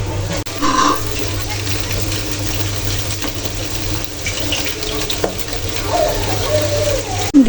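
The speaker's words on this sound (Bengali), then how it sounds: "ভালো করে একটু ধুয়ে নিব আমি এখন।" Dried puti fish (shidol) being rinsed by hand in water, with steady splashing and swishing of water running through the whole stretch, close and fairly loud.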